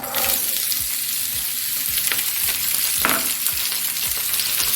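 Green beans hit hot oil with popped mustard seeds and dried red chillies and sizzle loudly in a continuous crackling hiss, with occasional soft knocks of stirring against the pan.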